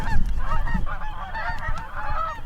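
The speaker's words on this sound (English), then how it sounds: "I've got Canada geese up there." Canada geese honk repeatedly overhead in an outdoor field, a busy, overlapping chorus of nasal calls at moderate distance with steady low wind or ground noise beneath.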